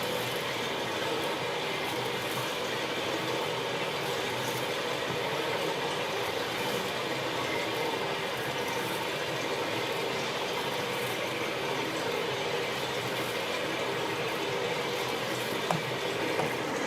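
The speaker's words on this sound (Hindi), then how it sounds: "इसको मिक्सर कर रहे हैं मक्का को।" A batch mixer churns maize with oil and food-coloured water in a pola-making plant, producing a continuous loud mechanical rumble and rattle that stays steady throughout, with no pause.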